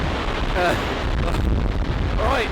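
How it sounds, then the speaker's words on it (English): Strong wind gusts across open upland in Elan Valley, Wales, roaring against the microphone as a steady low rumble throughout, with someone talking over it. "God it's windy"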